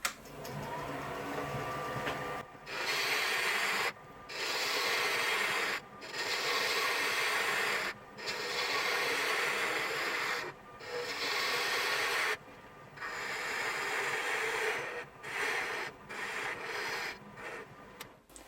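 A roughing gouge cuts a wooden file handle spinning on a lathe, giving bursts of loud scraping and hissing. Short pauses break the cuts at an irregular rhythm.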